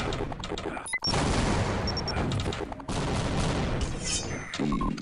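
Dense, continuous gunfire and explosive bursts from a Team Fortress Classic pickup match, loud and sustained across the whole stretch, with a brief dropout near the start.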